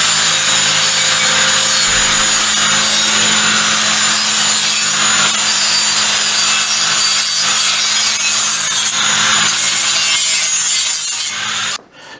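The edges of sheet metal are smoothed off by hand with a loud, steady rasping scrape that repeats close by for about eleven seconds, then stops abruptly. No one speaks.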